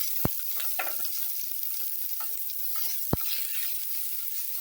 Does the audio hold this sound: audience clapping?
no